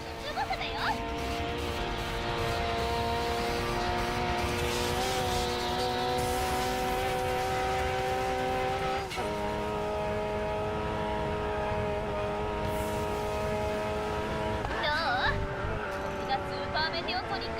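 A Toyota A80 Supra engine drones steadily while drifting in Racing Master, a sustained revving whine that shifts pitch at gear changes, running continuously under someone talking throughout.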